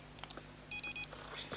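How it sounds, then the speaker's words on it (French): A camera with a built-in laser gives three short, clear electronic beeps in quick succession as its power button is pressed, close and fairly loud against a quiet room. "dès que j'appuie dessus ça fait un petit bip"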